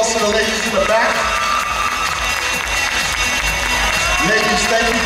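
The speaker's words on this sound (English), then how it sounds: "Audience, let's give a nice round of applause to the ladies in the back." An audience at a pageant-style stage event applauds and cheers, with whoops and crowd voices layered over dense clapping, loud and close throughout.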